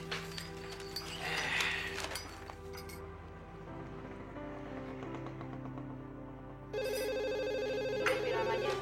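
A phone rings indoors, a bright trilling ring that starts, stops and starts again amid a faint glassy clink and light background noise, with no clear talking.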